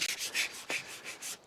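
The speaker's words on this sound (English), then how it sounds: "I am just sanding down the edges so it's nice and smooth to get it prepped to paint" Sandpaper rubs back and forth along wooden edges to smooth them before painting, inside a hunting cabin; a series of close, soft scratchy strokes in a steady rhythm with no talk.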